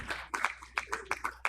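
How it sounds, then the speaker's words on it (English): A round of applause at a medical academic session in a hall, heard as a series of sharp hand claps in uneven bursts, fairly faint and a little distant. "round of applause, please."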